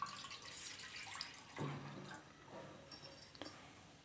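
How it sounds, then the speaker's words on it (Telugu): A glass of water poured into a bowl on the stove while making filter coffee, a soft splashing pour with a brighter burst near the end, heard alone and fairly faint. "దీంట్లో ఒక గ్లాస్ నీళ్ళు తీసుకోవాలండి."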